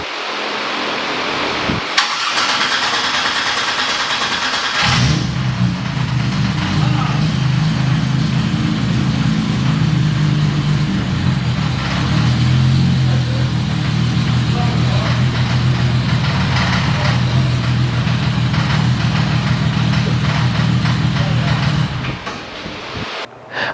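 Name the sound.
car engine starting and idling on dyno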